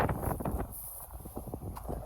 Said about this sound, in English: Very windy out here today.